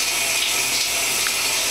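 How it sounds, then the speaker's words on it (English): A running shower sprays a steady broadband hiss of falling water, constant and fairly close, with no talk over it. "Taking a shower."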